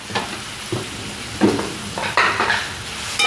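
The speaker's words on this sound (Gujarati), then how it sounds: "બરાબર મિક્સ કરી દઈશું." A spoon stirs coriander powder, turmeric and tomatoes in a frying pan while cooking sev tomato curry, with a steady sizzle beneath several scraping strokes and light metallic clinks.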